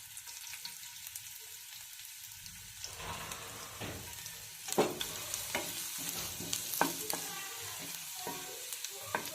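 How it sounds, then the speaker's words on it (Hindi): Garlic and ginger fry in hot oil for cabbage Manchurian, a steady loud sizzle that swells as it goes, with scattered spatula clicks and scrapes from stirring close by. "तेल गरम हेलानी, तो एबे देई दबा रसुण आ अदा"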